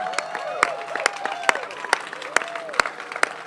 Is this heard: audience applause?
yes